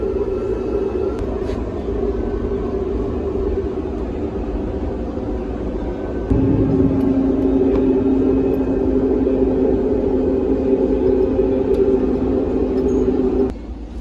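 A commuter train rumbles along steadily near Guadalupe Station with a low droning hum, its pitch shifting partway through as the running noise continues until it drops off at the end.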